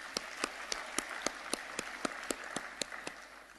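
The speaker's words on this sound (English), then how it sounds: "Another warm round of applause, ladies and gentlemen." Faint, sparse applause from a small audience at a local government energy summit in Johannesburg, a few distinct claps spaced irregularly and fading toward the end.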